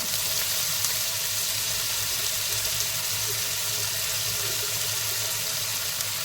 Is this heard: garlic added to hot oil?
yes